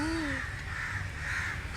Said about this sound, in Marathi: सगळीकडे काव काव काव चालूच आहे